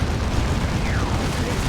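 Demolisher Cannon shells and Emperor's Wrath artillery slam into Ork positions in the Warhammer 40,000: Dawn of War 2 strategy game, a dense, continuous roar of overlapping blasts and rumbling booms at steady loudness throughout.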